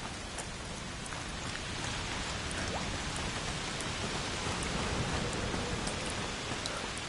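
Steady rain falls in A Plague Tale: Requiem, a dense, even hiss of drops spattering on surfaces, with a few sharper nearby splashes and no voices across the whole stretch.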